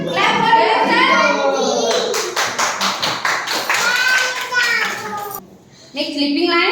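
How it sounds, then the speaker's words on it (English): Preschool children clap their hands in a classroom, giving a quick run of sharp, close claps in the middle, with a child and an adult talking before and after. "Clap for yourself."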